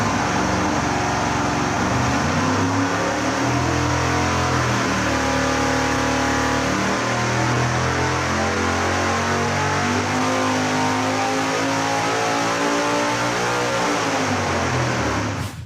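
Supercharged big-block Chevy engine on a dyno under nitrous, a loud sustained roar sweeping steadily upward in pitch from about 5,000 to 7,200 RPM, then cutting off abruptly at the end.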